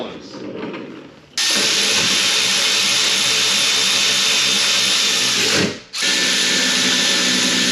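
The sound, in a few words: tools fitting and bolting a car's rear stabilizer bar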